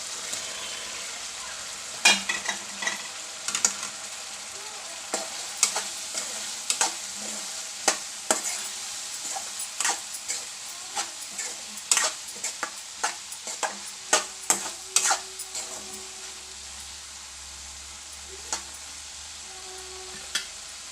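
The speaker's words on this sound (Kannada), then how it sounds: "ಏನು ಹುರಿದಿಟ್ಕೊತಿದ್ವಲ್ಲ ಬೆಂಡೆಕಾಯಿ ಮಿಕ್ಸ್ ಮಾಡಿ" A spoon stirs fried okra (bhindi) into sizzling masala in a pan, with irregular scraping strokes over a constant close frying hiss.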